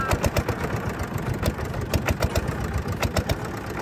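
A motor boat's engine runs steadily on a river near the India border in Lalmonirhat, a loud chugging putter with regular pulsing beats and no talk.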